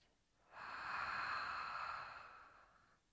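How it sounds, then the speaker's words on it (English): A single slow, deep breath is drawn in and let out, a soft airy rush lasting a couple of seconds, close and quiet, with no other sound around it. "Take a deep breath in and a deep breath out."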